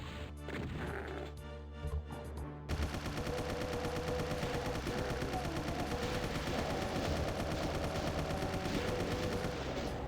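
Rapid bursts of gunfire from the video game The Lost Magic ring out over a game soundtrack, a dense stream of sharp shots and crashes after a brief quieter musical opening.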